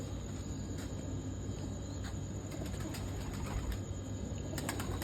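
Soft pigeon cooing runs through a steady background hum, with occasional faint chirps and light clicks, no voices.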